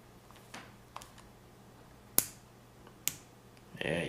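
Sharp mechanical clicks from an Uberti Cattleman .45 Colt revolver action after a new spring is fitted, a few faint ticks and then two crisp, louder clicks close by, ending in brief handling noise.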